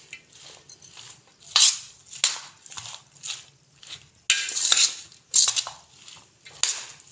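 A spoon scrapes and clinks through white chana chaat in a dish, irregular bursts of mixing and scraping with short pauses between strokes, close and clear, no talk.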